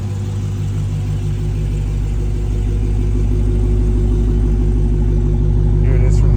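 A 2022 Dodge Challenger Hellcat SRT RedEye Widebody idles with a deep, steady exhaust rumble close by. It runs loud and continuous, swelling slightly toward the end, and no one speaks over it.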